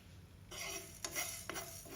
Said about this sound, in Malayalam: ഇതിൽ 1 ടേബിൾ സ്പൂൺ കുരുമുളക്, 1 ടീസ്പൂൺ പെരിഞ്ജീരകം, 1 ടീസ്പൂൺ ജീരകം ഇത്രയും ഇട്ട് കൊടുത്ത് നമുക്കൊന്ന് വറുത്തെടുക്കാം